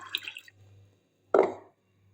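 Tamarind water is poured into a jar in a home kitchen. A short, close splashing gush lasts about a third of a second after softer earlier liquid sounds, over a low steady background hum.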